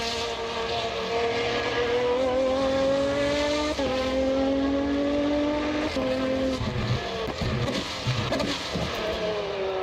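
A race car circles the Hungaroring in Automobilista 2, its engine loud and continuous, with pitch sweeping up through the gears and dropping sharply on the downshifts, and occasional crackling pops.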